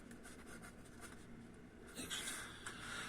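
Marker or chalk strokes scratch across a board during a math lecture, a steady run of close, quiet writing sounds over room hiss, growing a little louder and busier toward the end.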